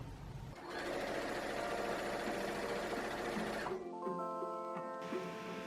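A sewing machine stitches together the side seams of fabric pieces for a DIY summer top. It runs in one loud, steady mechanical whir for about three seconds, then shifts to a lighter, tonal hum near the end. No one speaks.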